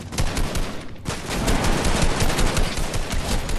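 Rapid automatic gunfire in Fortnite, a loud, dense, continuous stream of close shots with a brief gap near the start.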